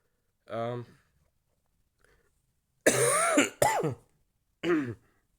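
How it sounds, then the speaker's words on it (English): Several short, rough coughs and throat clearings come in separate bursts with quiet gaps between them, close and distinct. "The more I talk, the more I'm coughing."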